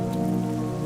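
Steady rain falls in a continuous, even wash that holds close and level throughout the brief moment, with no voices over it.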